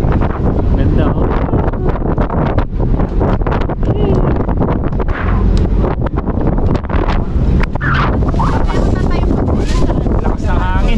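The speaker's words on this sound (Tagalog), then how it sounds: "Lakas ng hangin." Strong gusty wind buffets the microphone on the open deck of a ferry at Manly Wharf, a loud continuous roar with water and engine rumble beneath and voices talking faintly through it.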